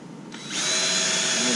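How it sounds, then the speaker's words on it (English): A power drill spins up and bites into a metal rod on a kayak cart, its high whine swelling to a steady, loud grinding that holds until the end. "I'm going to pre-drill all the way through it."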